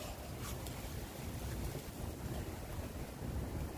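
Strong wind from a hurricane-force storm at a campsite blows steadily against the microphone as a constant, loud, broadband roar for the full stretch, with no talking.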